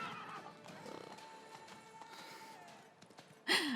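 Roach, Geralt's horse in The Witcher 3: Blood and Wine, balks at a bridge with a long wavering whinny and clip-clopping hooves, ending in a sharp loud snort-like burst near the end.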